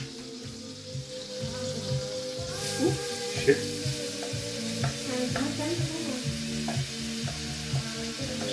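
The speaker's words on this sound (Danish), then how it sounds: "Vi skal stege bacon lidt sprødt." Bacon frying in a pan until crispy, a steady sizzling hiss with stirring and scraping throughout, while a person briefly speaks over it.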